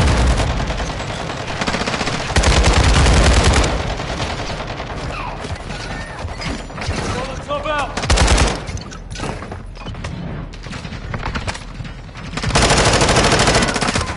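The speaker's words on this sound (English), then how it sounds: "Suppression fire on the right." Heavy suppression gunfire in a Call of Duty MWII raid, loud sustained automatic bursts from several guns with brief lulls between volleys, close and dense throughout.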